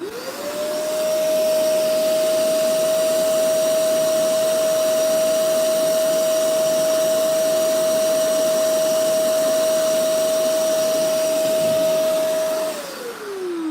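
A loud, steady vacuum-like whine of a spot carpet cleaner's suction motor running continuously while scrubbing and extracting, spinning down near the end as the vacuum is switched off.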